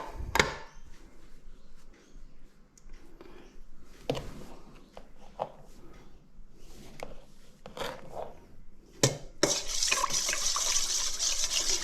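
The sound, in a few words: water being poured for pizza dough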